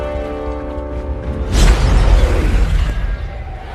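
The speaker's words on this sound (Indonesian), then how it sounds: "gedung tersebut meledak." A building explodes in an animated scene: after a low held tone, a sudden loud boom bursts in, followed by a rumbling, crackling tail of debris that slowly fades.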